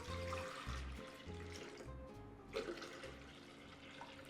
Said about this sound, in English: We'll start by adding 4 cups of water.